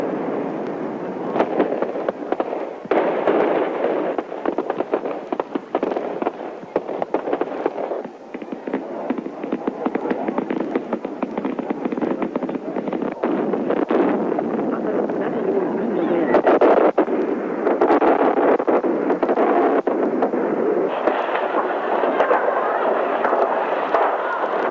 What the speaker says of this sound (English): It was a time for Africa to celebrate with fireworks.